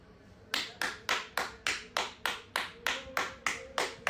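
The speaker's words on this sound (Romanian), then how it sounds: "Chiar am aplaudat ambulanța" A single person claps steadily, about a dozen sharp, evenly spaced hand claps over four seconds, close and fairly loud in a quiet room, saluting a passing ambulance.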